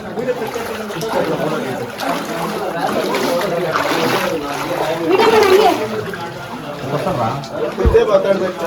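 Feet wade through murky water on the way to a temple near Kundapura, sloshing and splashing irregularly close by while people talk over the watery movement.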